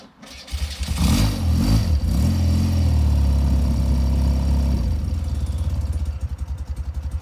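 A BMW R100GS Paris Dakar motorcycle, slightly cold, cranks and catches, then settles into a loud, steady boxer-twin idle that throbs close by before the pulses loosen near the end.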